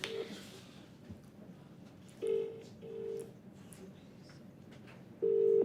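A mobile phone on speakerphone, held up to a microphone at a stand-up comedy show, plays a few short ringback tones amid quiet room murmur.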